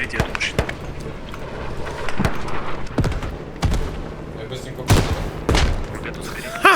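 Gunfire in the tactical shooter Squad: scattered single heavy shots and booms at irregular intervals, some near and sharp, with background combat noise and a voice speaking at times.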